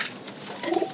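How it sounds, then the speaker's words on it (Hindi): Pigeons cooing inside a cage at a bird-keeper's setup, soft murmuring coos building into a louder, closer burst near the end. "नहीं बिलाल भाई, असल में आपने देखा केज में कबूतर पकड़ना कितना मुश्किल है"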